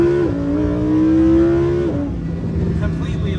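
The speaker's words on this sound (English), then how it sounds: "So when you put this into sport mode, it essentially almost makes it a complete straight pipe." A Lamborghini Huracan EVO in sport mode with exhaust valves open gives a loud, near engine rev whose pitch holds high and then drops off, settling into a rumbling idle.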